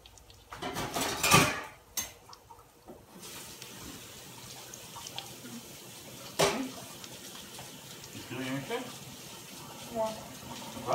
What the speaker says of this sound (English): You wash the spatula.